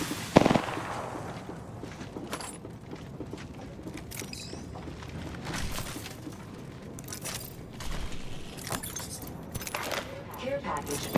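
Video game gunfire cracks in sharp, scattered shots and short bursts, with a loud bang at the start. A player's voice talks over the fighting.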